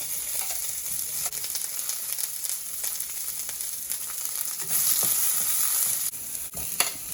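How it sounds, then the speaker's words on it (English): Chopped onion frying in hot oil with mustard seeds and urad dal, a continuous dense sizzle close by that swells louder midway, with faint stirring scrapes and no speech. "Add onion and fry till it's golden brown"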